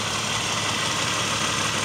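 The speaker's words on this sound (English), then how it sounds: "Sounds a lot quieter, a lot tamer with the new exhaust system on it than the other car. But you can still tell that it's got the lope." A bored and stroked G10 one-liter engine, swapped into a 1991 Chevy Sprint with a new exhaust, idles with a steady, moderately loud, even rumble close by, and no voices are heard.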